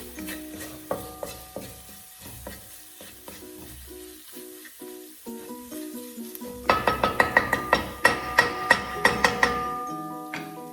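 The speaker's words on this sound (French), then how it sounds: "Et je continue à mélanger le tout." Chicken curry with sambal oelek being stirred in a pan, a spoon scraping and clinking against the metal in an uneven rhythm that grows louder and sharper toward the end, with no talk.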